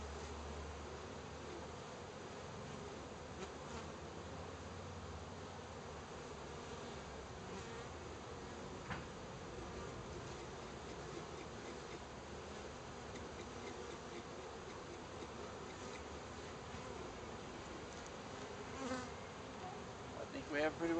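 Honeybees freshly dusted in a sugar shake keep up a soft, steady droning buzz throughout, faint and unbroken, with no voices over it.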